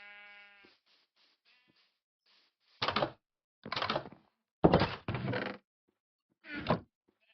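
A sheep in a video game bleats five times in short, close, clear bursts separated by brief pauses, with no talking.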